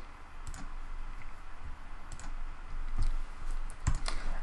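Computer mouse clicks while installing the pygame package for Python 3, a few soft, sparse clicks against a quiet room background.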